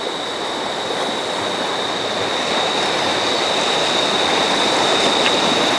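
A swollen, flooded stream rushes past a bank lined with broken bamboo, a steady broadband roar that holds loud and constant throughout, with no voices.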